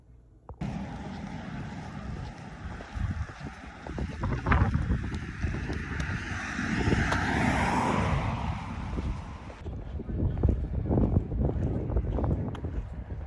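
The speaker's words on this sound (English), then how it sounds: "I really hope you can hear me because it is a little windy out here" Gusty wind buffets the microphone outdoors on a blustery morning, a steady broadband rumble and roar that swells and holds for most of the stretch, with low thumps of wind noise throughout and no talking.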